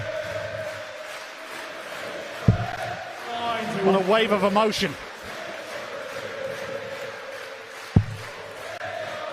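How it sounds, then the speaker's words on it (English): A crowd at a professional darts match swells into chanting and cheering, rising for a couple of seconds before fading. A commentator talks throughout, with sharp thuds near the start and end. "The crowd are carrying Lukas Wenig here."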